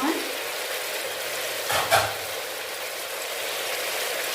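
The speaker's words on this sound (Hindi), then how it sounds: "और इसको अच्छे से फ्राई करूँगी ताकि इसकी खुशबू आनी शुरू हो जाए।" Whole spices, black cardamom, bay leaf and cinnamon, fry in oil in a pot with a steady close sizzle, broken by a brief stir and clatter midway.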